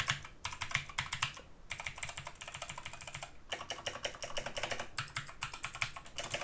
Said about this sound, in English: And the keyboard typing experience is